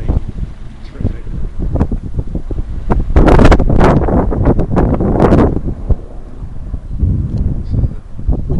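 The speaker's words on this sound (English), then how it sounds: "So the wind itself keeps changing direction." Gusty wind blows around a small wind generator outdoors, buffeting loudly in uneven surges with a stronger burst midway, and no one speaks.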